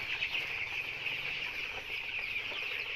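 A flock of chickens on a poultry farm clucks and chatters continuously close by, forming a busy, steady chorus of overlapping calls.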